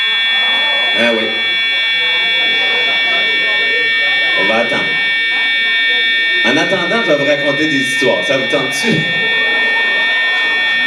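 A building fire alarm that staff cannot switch off sounds as a steady high-pitched electronic tone through the whole stretch, while a person talks in French close by.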